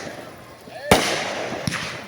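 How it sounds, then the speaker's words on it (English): A 4th of July fireworks shell bursts with one loud, sharp bang and then a smaller pop after it, ringing out over the open-air bustle of a local putt-putt golf event. "Then here we go with the fireworks."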